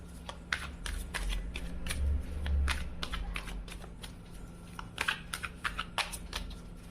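Tarot cards being shuffled by hand at a reading, a sequence of crisp riffling and flicking bursts, close and fairly quiet, with brief pauses between handfuls.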